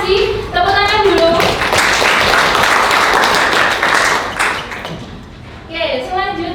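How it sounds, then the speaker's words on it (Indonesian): A class of students claps together in a PPG history lesson, a dense burst of applause lasting several seconds and then tapering off, with talking heard at the start and end. "Tepuk tangan dulu."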